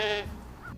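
Sheep grazing along the banks of the Madison River, one short nasal bleat close by, followed by quieter outdoor background and a faint second call.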